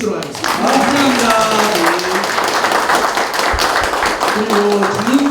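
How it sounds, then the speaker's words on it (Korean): An audience at a special invited-guest meeting in Gwangju breaks into sustained clapping that fills the room, while a voice carries on over the applause. "큰 박수로 모시도록 하겠습니다"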